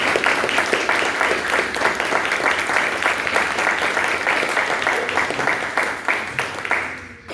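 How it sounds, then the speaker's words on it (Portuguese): A church congregation applauds loudly at a Sunday family service, with dense sustained clapping that fills the room and fades slightly toward the end. "aplauda bem forte o nome do Senhor"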